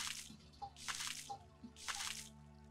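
Water drips in the Hydroneer mining game, three distinct splashing drops at a steady slow rhythm over a faint tonal hum, close and fairly quiet with no talk.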